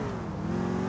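Car engine revving in GTA IV, a steady droning roar with a sustained tone, loud and continuous through a brief burst with no talk over it.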